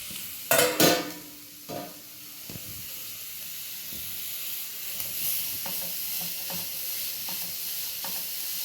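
Carrots stirred in hot ghee in a pan, a couple of loud close scrapes and clatters at the start, then a steady hiss and sizzle with occasional light stirring taps, no talk.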